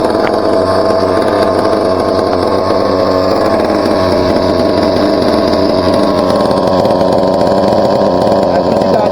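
A Team Associated MGT 4.6 nitro RC truck engine runs loud and close at a steady, raspy, buzzing idle, like a small chainsaw, without letting up.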